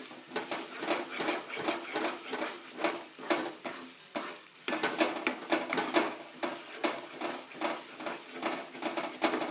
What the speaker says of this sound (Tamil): பருத்து வச்ச முந்திரியும் தேங்காயும் போட்டு நல்லா கிண்டுங்கணும்.